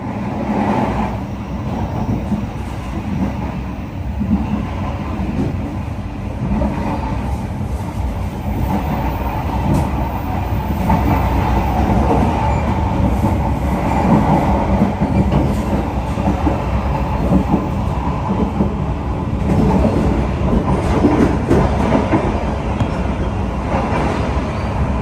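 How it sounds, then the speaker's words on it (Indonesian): The Ambarawa Ekspres economy train runs steadily along the rails, a continuous rumbling roll with rhythmic wheel clatter heard from inside the carriage, fairly loud and unbroken. "Perjalanan kereta api Ambarawa Express kini telah tiba di stasiun Cepu."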